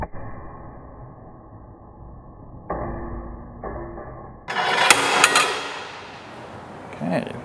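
A weight drops onto a 4mm grade 250 carbon steel underbody protection plate for a Prado 150 or FJ, giving one loud, bright metallic crash that rings briefly and fades against a low background hum.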